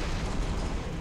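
Grenade blasts from Halo: Reach gameplay form a dense, continuous low rumble that stays loud and steady through the whole second, with no voices over it.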